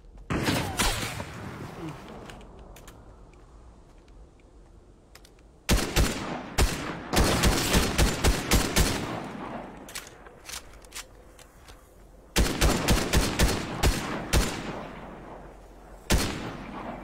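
Gunfire from a gun in the survival video game ARK comes in loud, rapid automatic bursts, several separate volleys of sharp cracking shots with quieter gaps between them.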